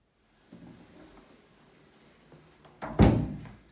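A coat closet door in a house opens with a soft rustle, then a sharp thunk and brief rattle near the end, close and fairly loud against a quiet room.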